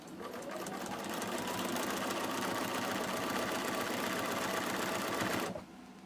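Close, steady whir of a sewing machine stitching quilt blocks for a patchwork crosses quilt, running continuously at an even pace for over five seconds before cutting off abruptly.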